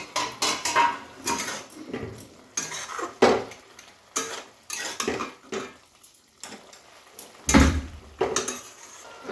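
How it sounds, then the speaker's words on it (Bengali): A metal lid is handled and set onto a cooking pot of gram greens with potatoes. Close, loud clanks and scrapes of metal on metal come in irregular bursts with short quiet gaps between them. "এবার আমি ঢেকে রাখবো।"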